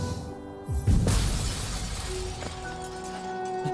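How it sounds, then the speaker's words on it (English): A glass-shattering effect in Hollow Knight, one loud crash bursting in and then ringing out in a long, bright shimmering tail of scattered shards over a low background. "the sound effect is literally glass shattering, because you're about to become more fragile"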